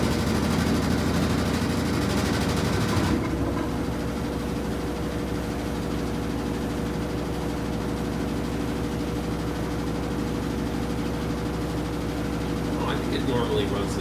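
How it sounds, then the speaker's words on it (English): A Whirlpool WTW5000DW washer's drain pump running in manual test mode, a steady whirring hum that changes tone after a few seconds, then continues evenly, with a faint rattle near the end. "we'll run the pump a little bit more"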